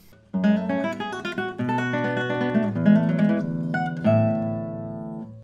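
Solo guitar phrase of strummed barre chords moving into picked arpeggiated figures, clear and close, ending on a ringing chord.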